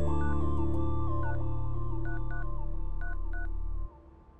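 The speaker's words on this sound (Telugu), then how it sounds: "హే మహేష్, మా డాడీ కాల్ చేస్తున్నారు" A phone sounds an electronic call melody of stepped tones with short higher beeps over a steady hum, then cuts off abruptly near the end.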